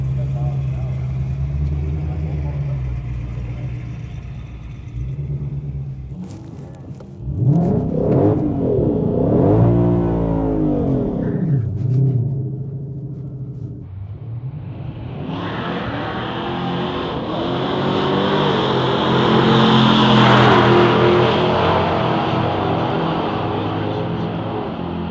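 A 2020 Shelby GT500 and a 2014 GT500 Super Snake drag racing a quarter mile: idling V8 rumble, then loud revving launches with rising and falling engine pitch, a car roaring past near the end, with people talking over it.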